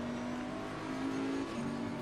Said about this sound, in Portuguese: Estamos pilotando um Bentley GT3.